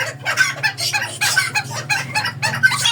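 Gray and white jungle fowl cluck and crow loudly and continuously, several birds close by calling over one another with repeated sharp bursts.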